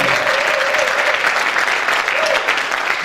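A church congregation breaks into loud, sustained applause, dense steady clapping filling the space with a faint voice rising over it.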